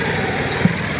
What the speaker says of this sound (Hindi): अभी जो है दूसरा ट्रैक्टर भी आ चुका है और इस तरफ आ गया